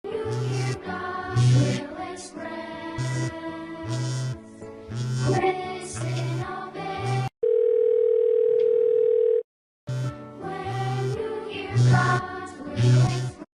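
A telephone tone sounds steadily for about two seconds within a played video, set between stretches of music with rhythmic beats and voices, the call going unanswered.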